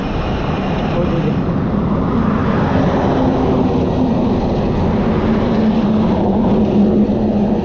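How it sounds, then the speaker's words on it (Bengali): Vehicles rush past at speed on the highway near Jamuna Bridge, a loud continuous roaring drone with steady engine hum and wind rumble throughout, close by. "আর গাড়িগুলো যায় মানে রকেটের শব্দ হয় যখন যায় সামনে দিয়ে"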